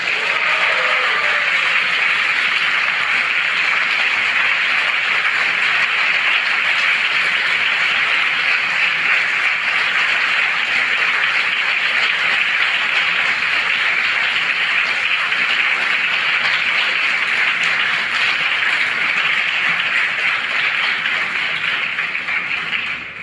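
An audience at ISKCON Dwarka applauds, a dense, steady wash of many hands clapping that holds at an even, loud level for over twenty seconds before easing slightly at the end.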